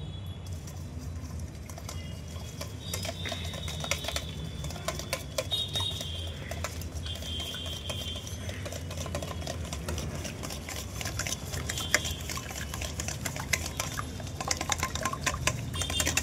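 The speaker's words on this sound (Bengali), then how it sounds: "আমি এবার ডিমটাকে ভালো করে ফেটিয়ে নেব এইভাবে ঘুরিয়ে ঘুরিয়ে" A large spoon beats eggs for a jaggery fruit cake, making a steady, close, rapid clatter and wet slapping against the bowl that runs on continuously.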